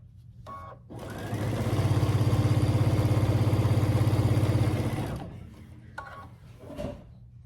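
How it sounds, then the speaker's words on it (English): A sewing machine runs steadily for about four seconds as it stitches binding onto a Grinch quilt, its needle chattering in a fast, even rhythm, close and loud, with brief fabric handling before and after. "So I'll stitch all the way until I get to about a 1/4 inch."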